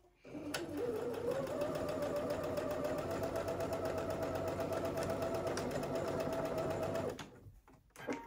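A sewing machine runs a half-inch seam through knit fabric, a steady close whirring motor held for about six seconds before stopping abruptly, with light clicks at start and finish.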